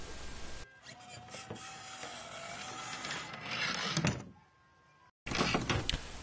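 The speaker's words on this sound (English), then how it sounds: "This servo mounted on the back of the coffin pulls down the back of the lid to raise the lid." Hobby servo motors whir steadily as they pull a Halloween coffin lid open and raise a skeleton, a close mechanical buzzing that runs for several seconds and then briefly drops to near silence before starting again.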